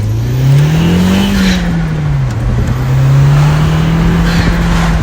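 A car with a 034Motorsport stage 1 tune on its 2.0T engine accelerates hard, its engine note droning loud and close, climbing in pitch, dipping at a shift, then rising again.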